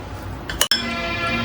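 A spoon gives one bright clink against a bowl while black pepper and salt are mixed in it, a single quick metallic ring over quiet background hum.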